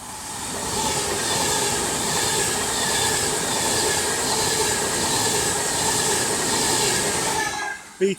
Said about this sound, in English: the next train to be coming through will be a Class 390 Pendolino for Avanti West Coast